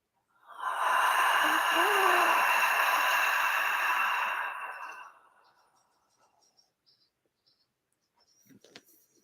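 A long, steady breath is pushed out through the mouth, loud and close for about four seconds as a breathy rush, then tails off into near silence with a faint rustle at the end.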